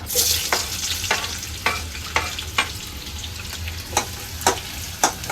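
Onion fries in hot oil in a pan for egg curry, a constant crackling sizzle punctuated by regular, fairly loud spatula strokes roughly every half second, with a low hum beneath.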